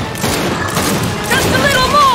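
Sustained automatic gunfire rattles in Gears 5 as weapons pour shots into tree roots, a dense continuous volley with booming undertones and shouted voices over it.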